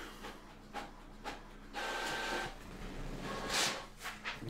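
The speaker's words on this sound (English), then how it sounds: "You can probably hear my printer firing up there now." A home printer printing a shopping list whirs and rasps with paper-feed and print-head passes, a steady mechanical grinding with brief louder surges, close and alone.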